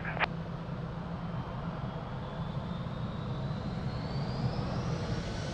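A jet airliner rumbles on the runway at Lisbon Airport during takeoff, a steady broad engine roar with a faint rising whine, heard from a distance.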